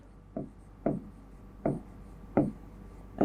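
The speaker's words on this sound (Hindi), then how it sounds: "मैं यहां लिखता हूं" Chalk or a marker taps and scrapes against a classroom board in short, evenly spaced strokes, about four to five distinct scratchy hits. The strokes are fairly quiet and close, with no voice over them.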